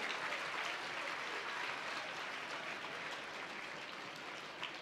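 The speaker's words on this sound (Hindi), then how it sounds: "सब बच्चे जोरदार ताली बजा दीजिए" Loud, sustained applause from a crowd of schoolchildren at a student gathering in Dhamtari, dense clapping that holds steady for the full stretch with no talk.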